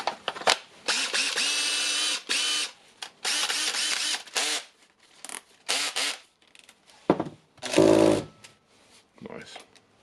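An old Makita 18V cordless drill, repaired after failing in one direction, whirs in repeated short bursts of varying length, close and loud, with stops and starts between runs and a brief different buzz near the end.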